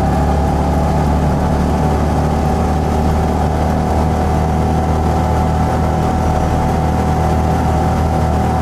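Trojan 200 (Heinkel Kabine) bubblecar's small engine droning steadily while driving uphill, a loud continuous buzzing hum with constant road and wind noise and no speech.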